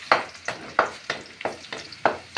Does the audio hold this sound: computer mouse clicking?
no